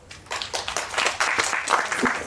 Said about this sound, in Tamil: கைத்தட்டல் போடுவோம்